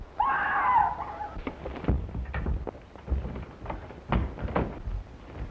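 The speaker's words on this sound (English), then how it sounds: "Where did that scream come from?" A high, wavering scream rings out near the start in a 1932 mystery film, followed by several dull thumps and knocks like a door or furniture, spaced irregularly through the rest.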